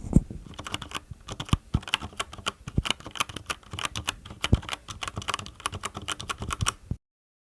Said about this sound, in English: I'm going to just put my microphone near to the keyboard whilst I'm typing, and then you can actually hear the difference when pressing the keys